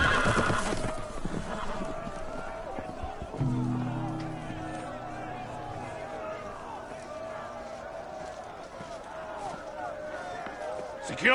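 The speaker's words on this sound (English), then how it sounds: "The horses! They're loose!" Loose horses whinny and neigh loudly while hooves clatter and gallop in a chaotic rush, with shouting voices over the commotion and a continuous rumble of movement throughout.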